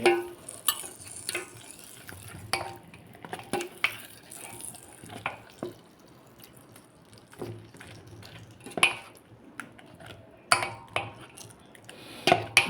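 A ladle stirs wood apple yogurt chutney in a pot, making a steady run of wet scraping swishes and soft metallic knocks, close and fairly loud, with no talking.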